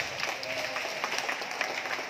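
Church congregation claps loudly during a worship service, a dense, steady wash of applause with a murmur of voices beneath it.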